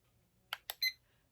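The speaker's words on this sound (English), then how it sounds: "we are going to start the timer at 10 minutes" A digital timer being set to 10 minutes gives three short, quiet electronic beeps in quick succession, alone in a near-silent room.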